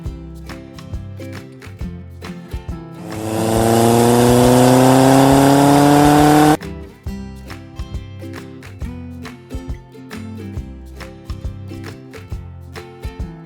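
A red toy car revs up with a rising engine whine that climbs in pitch for about three seconds, then cuts off sharply, set against light background music.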